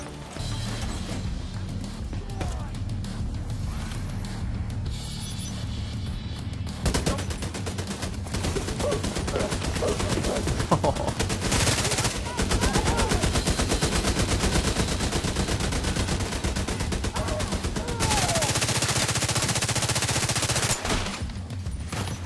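Automated turrets firing in The Division 2 video game, dense sustained rapid gunfire rattling almost continuously at close range with sharper crashing bursts mixed in, no voices.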